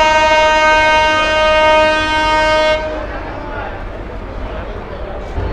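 The Dhumketu Express blares a long, loud horn as it enters an airport railway station, the horn ceasing partway through while the heavy rumble of the rolling train continues, with a voice speaking over it.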